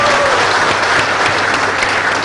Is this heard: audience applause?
yes